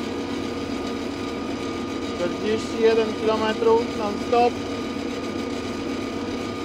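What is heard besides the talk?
Arbos 4100 tractor engine driving at top speed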